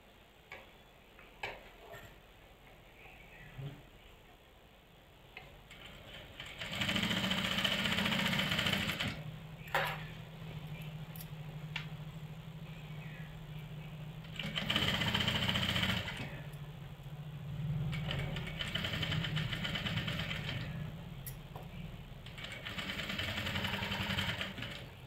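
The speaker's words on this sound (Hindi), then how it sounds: "पलटने के बाद जो सिलाई मैंने लगाई है उसी सिलाई के ऊपर से सिलाई लगा लेंगे" A sewing machine stitches back over an earlier seam along a garment neckline, running in steady bursts of a few seconds with brief pauses between them, its close, even motor hum and rapid tick of the needle clear with no talking.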